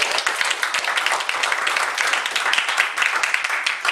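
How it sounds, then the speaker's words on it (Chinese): An audience at a sales training talk claps in a dense, steady burst of applause that stays even and full for several seconds, with no voices breaking through. "有没有掌声一下？"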